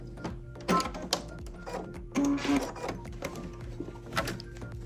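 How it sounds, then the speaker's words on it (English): A sewing machine working satin stitches on a tissue box cover runs in short, uneven bursts of rapid clatter and whir, close by, with small clicks and pauses between runs. "Butting up those satin stitches next to one another, right until I get to the corner, and then back a little bit again."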